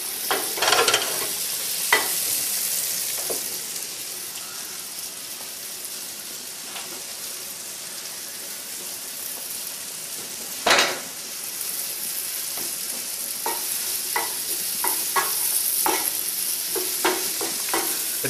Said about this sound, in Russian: Жарим, жарим, жарим.